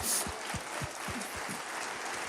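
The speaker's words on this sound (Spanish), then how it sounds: "Dale un fuerte aplauso al Señor" Applause from a church congregation, a steady broadband patter of clapping filling the space, moderately loud, with a few low thumps underneath and no talking.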